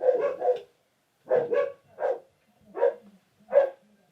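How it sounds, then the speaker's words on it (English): Beagles barking in sharp bursts: a quick double bark, then a pause, then four more single barks at a fairly even pace, clear and moderately close with nothing else behind them. "the dogs just lit up"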